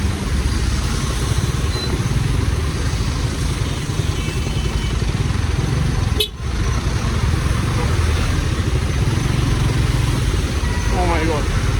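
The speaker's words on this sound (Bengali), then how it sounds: "বৃষ্টির মধ্যে এরকম জ্যাম।" Cars and motorcycles sit idling in a rain-soaked traffic jam, a dense, steady low engine drone with hiss of rain, close and continuous, with one brief sharp knock midway.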